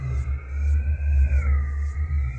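Music software with a distortion effect: buzzy, gritty electronic tone holding a gliding pitch over a heavy low drone, with a rough, saturated texture throughout.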